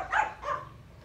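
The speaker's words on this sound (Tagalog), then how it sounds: "naingay yung aso" A dog gives two quick barks, fairly close and moderately loud, with nothing else around them.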